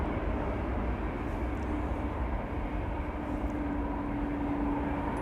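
An ITA Airways airliner at Amsterdam Schiphol Airport, a continuous distant engine rumble and whine, steady and fairly faint, with a thin tone rising out of the wash toward the end.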